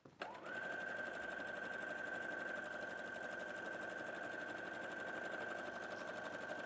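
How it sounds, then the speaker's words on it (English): A sewing machine stitches fused quilt squares from a quilt kit, a continuous fast even whirring hum with a steady motor whine after a brief start, heard alone at moderate distance. "So I'm just going to try and sew these so you can see."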